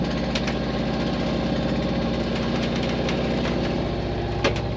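A boat engine runs at steady idle, a continuous low throbbing drone heard from the front of the deck, even and unbroken with a brief clatter near the end.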